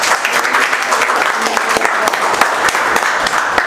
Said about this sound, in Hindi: इनके लिए जोरदार ताली बजाओ भाई